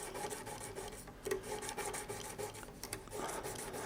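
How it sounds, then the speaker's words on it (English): Emery cloth scrubbed back and forth over rusty brass guitar frets, a soft, close rasping rub in repeated short strokes with brief pauses between passes, quiet and with no voices. "Just rub the emery cloth over it, like so. The emery paper will clean it."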